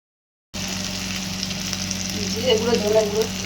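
After a short silence, an onion-based spice paste for catfish curry starts frying with a steady close sizzle, and bubbling and stirring pick up toward the end.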